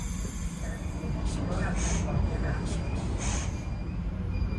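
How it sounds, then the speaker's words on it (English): A train rumbles at Krakow main railway station, with squealing wheels and a broad, steady roar close by, while muffled voices and station noise carry underneath. "At Krakow main station, heading to Auschwitz."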